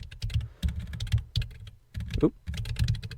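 Rapid clattering keystrokes on a computer keyboard during a command-line session, a steady run of close clicks with a short pause midway and a brief voice-like sweep near the end.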